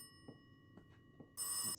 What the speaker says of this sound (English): So phone is ringing.